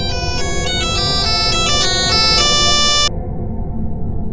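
A mobile phone ringtone plays a loud repeating electronic melody of bright stepped tones for about three seconds, then cuts off, leaving a low steady background hum.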